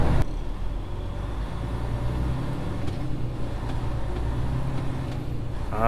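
A garbage truck engine rumbles close by in a steady low drone, with faint road traffic noise blended in and no speech.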